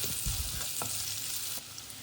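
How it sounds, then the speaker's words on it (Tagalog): Onions sauté in a hot pan for Thai pineapple fried rice, with a close, steady sizzle and a few scraping stirs near the start, heard alone with no talking. "Next, maglagay lang ng onions. Tapos, igisa lang for about 1 minute."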